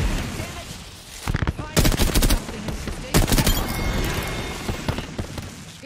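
Automatic R301 rifle fire and heavy Mastiff shotgun blasts in a shooter game, with two loud rapid bursts and scattered shots around them, close and punchy, a voice talking faintly underneath.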